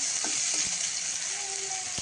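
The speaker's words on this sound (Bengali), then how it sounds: "কড়াইতে দিয়ে দিয়েছি একটু পেঁয়াজ ফোড়ন" Loud, steady sizzling of onions frying in a wok, with a few faint clinks and scrapes under the hiss, close up and without speech.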